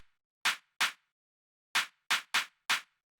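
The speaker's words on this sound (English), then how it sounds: "short but very fat and punchy clap sample" A short, fat, punchy clap sample from a Bristol techno production, struck six times in an uneven pattern, each hit dry, loud and tight with a quick decay, heard alone with silence between.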